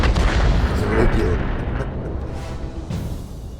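Artillery fire in a tank battle video game, a heavy booming blast that rolls off into a long rumbling decay, loud and close.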